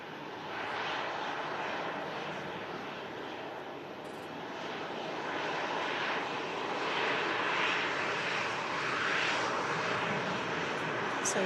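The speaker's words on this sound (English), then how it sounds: "A380's on the roll." An Airbus A380 on its takeoff roll gives off a broad, steady engine roar that swells slowly from a distance and stays loud throughout, with faint talk beneath it.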